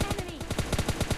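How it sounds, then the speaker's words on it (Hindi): Rapid automatic gunfire in a shooting video game, a fast, steady burst of loud, close shots filling the whole moment. "आगे बंदे के फायरिंग के साउंड आते हैं"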